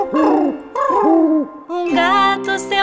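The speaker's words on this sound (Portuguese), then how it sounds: "A coruja à noite faz." Loud, close owl hooting calls at night come in a repeated series of rising-and-falling notes, followed by a higher, wavering cry.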